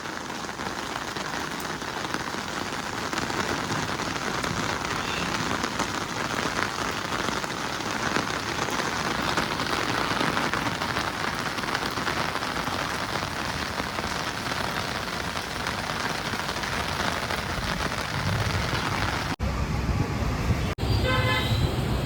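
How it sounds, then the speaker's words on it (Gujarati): Heavy rain pours down steadily in a dense, hissing roar over the Katargam area, with traffic and occasional car horns faintly mixed in under it. "જોરદાર વરસાદ આવે છે."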